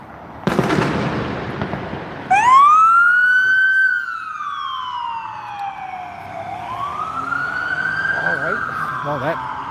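A police siren wails up and down in long sweeping tones, loud and close, after a sharp pop and some crackling at the start.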